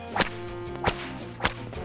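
A bullwhip cracked on an alpine mountainside, three sharp cracks spaced about two-thirds of a second apart over a steady outdoor background, loud and close.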